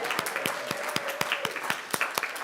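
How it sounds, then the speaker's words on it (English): During a Sunday worship service, the congregation claps in a steady rhythmic beat, sharp claps landing about four times a second and standing out clearly over a faint wash of other hands. "Let's give Jessie an extra round of applause because she has done everything."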